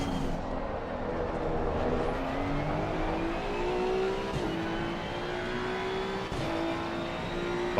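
A Mercedes race car in Gran Turismo, its engine revving and climbing steadily through several gear changes, the whine rising in pitch before each shift, heard alone and fairly close.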